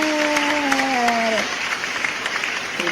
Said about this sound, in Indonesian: Terima kasih loh adik-adik buat tepuk tangannya.